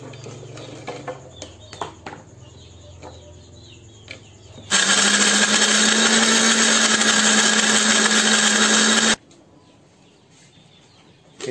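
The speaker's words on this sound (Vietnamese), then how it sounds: "giờ mình sẽ lấy máy xay, mình xay tất cả số ớt này ra cho nó nhuyễn các bạn nha" A kitchen blender grinds chili peppers into a paste, running loud and steady for about four seconds before cutting off abruptly, with quieter handling sounds before and after.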